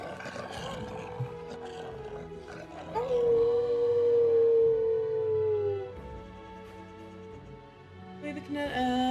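Wolves howl in the Dragon Age: Origins video game, a long wavering howl rising and holding for a few seconds, set among game music and ambience, with a shorter cry near the end.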